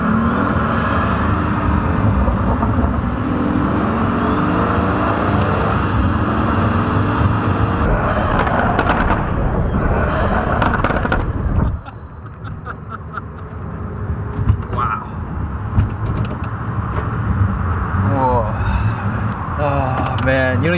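A Pagani supercar's engine drones and roars from inside the cabin while driving, loud and rumbling, then quieter after a sudden drop, with occasional mechanical clicks and whooshes.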